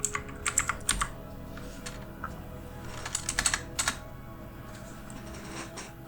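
Rapid bursts of keystrokes on a computer keyboard, close and clear, with short pauses between clusters of taps while setting up helicopter controls in a flight simulator.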